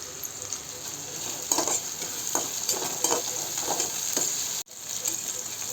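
Onions frying in a pan and getting stirred for egg biryani in a village kitchen, with a steady close sizzle broken by repeated scraping strokes of the spoon.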